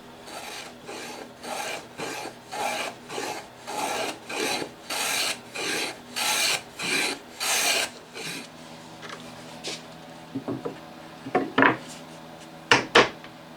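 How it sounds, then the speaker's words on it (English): Rhythmic rasping strokes chamfer the edges of small wooden cleats for a model railroad tender body, about a dozen steady back-and-forth rubs close by, then scattered light taps and short scrapes. "I'm going to put a slight chamfer on the front and side edges on the bottom of these little cleats"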